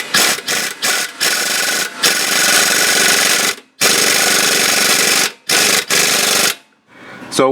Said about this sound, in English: All we need to do is tighten up the bottom bolts here.